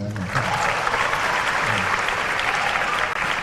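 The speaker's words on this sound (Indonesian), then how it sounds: "Good, tepuk tangan." A room of Jakarta student council leaders breaks into loud, dense applause at a question-and-answer session, a continuous wash of many hands clapping close by with no talk over it.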